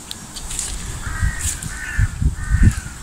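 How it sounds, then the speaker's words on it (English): Crows cawing in a tree-lined park on a sunny late-October day, several harsh caws repeating in a loose rhythm at moderate distance over soft outdoor ambience. "You hear the crows in the background."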